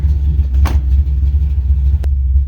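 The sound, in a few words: old truck engine idling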